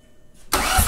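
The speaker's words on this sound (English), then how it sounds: "It is cranking, I just saw the oil cap bounce around. So we got compression." A freshly rebuilt car engine is cranked over on the starter while being primed with oil; after a half-second lull a loud, steady broadband cranking churn kicks in abruptly and continues alone.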